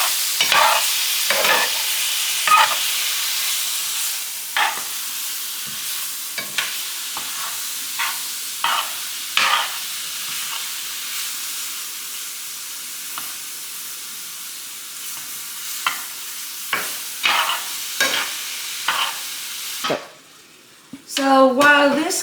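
Chicken and vegetables seasoned with adobo sizzle in a pan over the stove, a steady hiss broken by repeated scraping stirs, with a brief louder clatter near the end.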